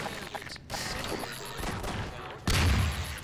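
Video game gunfire from Half-Life 2: a dense stretch of overlapping shots and rattling fire, ending in a heavier, louder blast.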